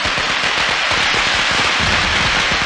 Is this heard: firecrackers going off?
yes